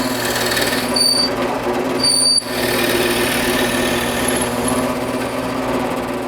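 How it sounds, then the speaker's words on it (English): A drill bores a hole into a flat-faced wood burl to seat a worm screw, a continuous steady high whine with two short squealing catches early on, close and loud without talk. "Now all I have to do is drill a hole here that will accept the worm screw."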